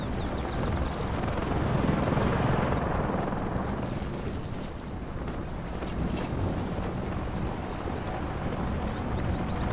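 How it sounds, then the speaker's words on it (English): Helicopters in the video game Call of Duty Modern Warfare 3 produce a steady, dense rotor and engine roar that holds at constant loudness throughout. "Target Kony's helos and we'll keep this threat contained"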